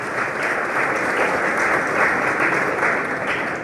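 An audience at a Honduran Bar Association event claps for a doctor, dense even applause from many hands, loud and sustained with no voices.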